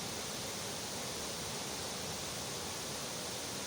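Steady broadband rush of a hill waterfall swollen by cyclone rain, a dense continuous roar with no breaks or voices, fairly quiet and even throughout.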